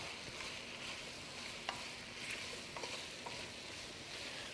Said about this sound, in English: we're just going to toss these around. Let these get all coated. Let these start cooking down and warm up